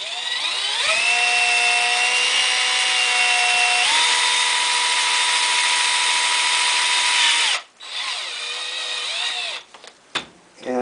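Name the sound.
power drill drilling a small hole in a case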